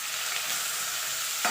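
Salted radish hitting hot oil tempering, a steady broadband sizzle that holds evenly throughout, with a brief stir or clatter near the end and no voices.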